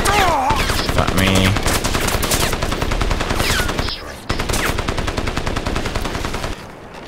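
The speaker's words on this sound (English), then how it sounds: "the beauties of having two heavy machine guns, always armed" Heavy machine gun fire in the video game Crysis: loud, rapid sustained bursts with a short break just before the midpoint, then another long stretch of continuous firing.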